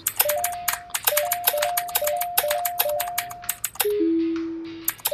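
Fast, close clatter of a mechanical keyboard being typed on, with bursts of keystrokes mixed with short electronic game beeps and tones.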